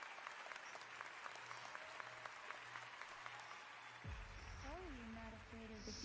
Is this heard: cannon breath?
no